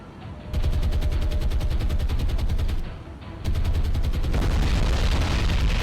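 Bombs exploding in the naval combat game War on the Sea, a loud sustained roar of rapid blasts that briefly drops off and then surges back, continuous and close.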